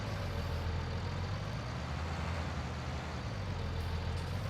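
A tractor engine in Farming Simulator 19 runs steadily at idle, a constant low rumble with no break.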